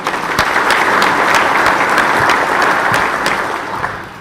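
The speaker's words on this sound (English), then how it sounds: "give all his staff a round of applause." A chamber of commerce audience gives a sustained round of applause for a U.S. senator's staff, dense steady clapping that fills the room and fades slightly at the end.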